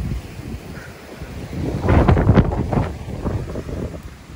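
Strong wind gusting over a yurt in snow, a broad roaring rush that swells to its loudest midway through the gusts and then eases, steady and close with no talk.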